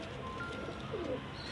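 A pigeon gives a soft, low coo once or twice against a steady background murmur, faint and close, with no one speaking.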